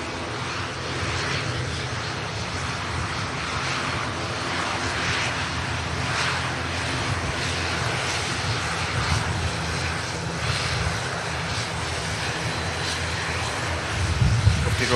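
An airliner takes off at Manchester Airport, its jet engines giving a steady, broad roar that lasts the whole stretch and swells slightly near the end, with faint talk underneath.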